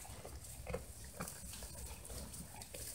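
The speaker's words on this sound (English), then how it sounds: "On my podcast, you listen to the sheep crunch their food." Steady, close crunching and chewing of sheep eating at a feeder, with soft rustling and shuffling around them and no talking.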